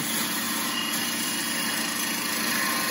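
A parting tool cuts into wood spinning on a lathe, with the bevel riding against the work: a steady, close whirring and scraping drone that holds even throughout, with no talking.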